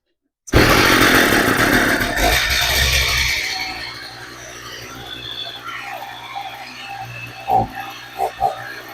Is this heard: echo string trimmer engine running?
yes